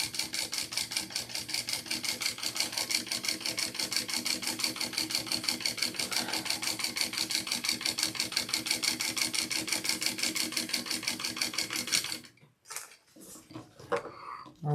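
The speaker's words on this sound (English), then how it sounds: "it kind of looks nice if you do a double row. As Susan says, you can never go wrong with a double stitch" Sewing machine stitching a double row on a crossbody bag, running in a steady, fast rhythmic patter for about twelve seconds before stopping, followed by a few faint handling clicks.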